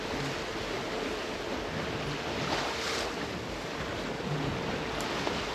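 A sailboat moves at sea with steady wind noise and broad washing waves against the hull, a continuous moderate rush with slight swells and no voices.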